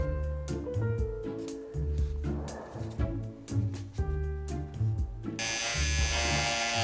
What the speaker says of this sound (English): Is that my beard trimmer?